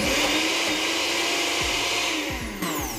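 A kitchen blender whirs loudly and steadily, its motor straining and shifting pitch slightly as it churns a thick butter chicken mixture, close up.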